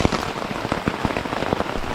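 Rain falls steadily on a tent at an Appalachian Trail campsite, a close, dense pattering with distinct heavier drops tapping the fabric throughout and nobody talking.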